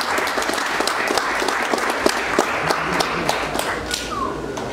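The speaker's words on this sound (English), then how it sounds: "we can just give our teachers a round of applause for the sterling job they have" An audience at a Year-11 school class dinner applauds its teachers with steady, dense clapping in a room for several seconds, fairly close and sustained, with faint voices underneath.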